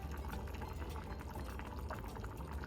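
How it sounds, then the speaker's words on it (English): A pot of fideo soup boils on the stove with a steady, dense bubbling and gurgling that stays close and even throughout, with no talking. "Now it's boiling, and it's been boiling for about 5-7 minutes"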